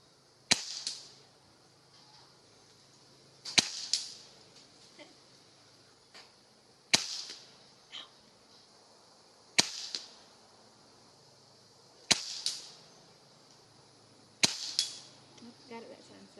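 An under-lever .22 pellet air rifle styled as a Springfield Armory M1A fires six times at a steady pace, each a sharp crack followed by a faint pellet impact, with quiet pauses between shots.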